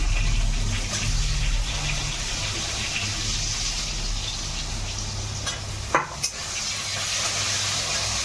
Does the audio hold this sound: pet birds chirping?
no